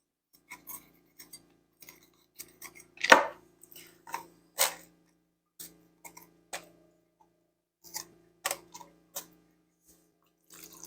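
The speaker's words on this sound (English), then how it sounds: "I'm going to cut up this yellow pepper. Chop it up here." A knife chops a yellow pepper on a cutting board in sharp, close, irregular taps, one heavier thunk among them and quiet gaps between strokes, with no talking.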